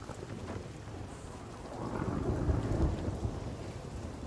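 Steady rain hiss with a low rolling rumble of thunder swelling in the middle, from a stormy sea in the Sea of Thieves video game, continuous and without voices.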